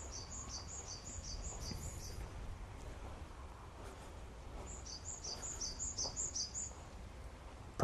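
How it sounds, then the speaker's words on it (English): Birds call outdoors in short repeated chirping bursts, faint and distant, set against a quiet ambient background with wind-like noise and no talk. "Birds."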